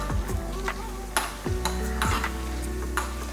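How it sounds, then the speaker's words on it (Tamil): Toor dal frying in oil in a pan for a South Indian mor kuzhambu, with steady sizzling, a few scraping stirs and metallic pan knocks close by, no talking. "பாருங்கள், துவரம் பருப்பு இந்த அளவுக்கு பொரிச்சாச்சு"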